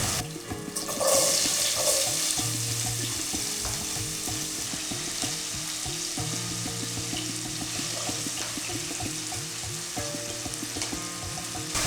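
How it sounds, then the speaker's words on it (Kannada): Onions fry in hot oil in a pan with curry leaves, a constant crackling sizzle under repeated scraping and clattering of a spatula stirring, loud and close, with no talk. "ಈರುಳ್ಳಿ ಹಾಕಿದ ನಂತರ ಚೆನ್ನಾಗಿ ಕೈ ಆಡಿಸ್ಬೇಕಾಗಿರುತ್ತೆ"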